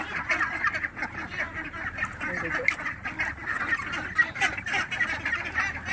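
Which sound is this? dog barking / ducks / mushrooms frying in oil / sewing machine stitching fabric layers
ducks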